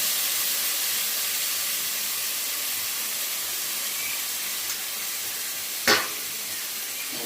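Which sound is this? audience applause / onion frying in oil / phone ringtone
onion frying in oil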